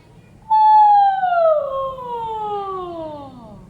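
A human voice imitates an ambulance siren in a breathing exercise, one long wailing tone that starts high and slides steadily downward for about three seconds in a quiet room.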